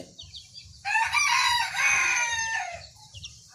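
A Sonali chicken rooster on a fancy poultry farm lets out one long loud crow near the middle, over a steady low background of clucking hens, with no voices.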